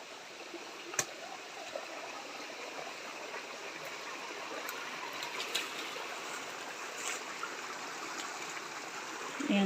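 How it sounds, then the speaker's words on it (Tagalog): Water flowing out of an old fish pond on a farm lot in Paete, a soft steady rushing trickle like a small stream, fairly faint and continuous, with a few light knocks and no voices. "ayan yung tubig galing dito sa pinaka dati nilang palaisdaan"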